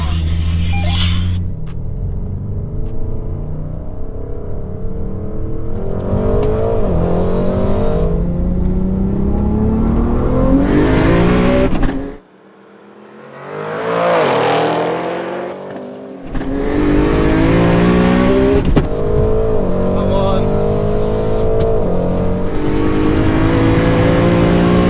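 Two highly tuned family wagons, a 1080 hp turbocharged VW Golf R32 and an 830 hp Audi RS6, launch side by side in a drag race, with loud roaring engines rising through the gears, a brief drop in the middle, then a sustained howl.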